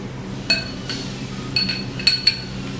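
A metal drive shaft coupler slipped onto a shaft, giving a few sharp metallic clinks and taps, close and spaced irregularly over a quiet workshop background.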